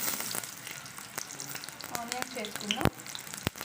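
Onions hit hot oil in a pan and fry with a steady crackling sizzle, with occasional stirring and utensil scrapes close by, and a voice speaks briefly.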